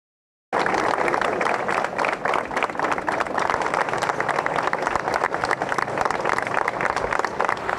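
Steady, dense applause from a group of municipal officials of Las Condes, Chile, starting abruptly after a short silence and continuing loud and even throughout with no pauses.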